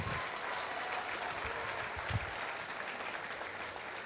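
An audience applauds at a speech, a faint, steady patter of many hands clapping throughout, heard from a distance with no voices.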